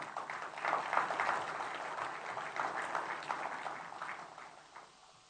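Audience applause at a China–Bangladesh trade and investment conference, a fairly distant, even wash of many clapping hands swelling and then tapering off over about five seconds.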